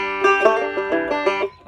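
Banjo playing a quick tag roll picking pattern up close, a fast, rhythmic stream of bright plucked notes that rings for about a second and a half with no talking.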